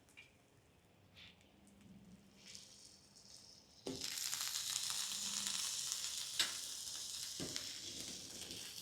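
Four sausage pieces land on a hot Loco griddle and burst into a loud, steady sizzle that holds without a break, following a quieter stretch of faint crackling.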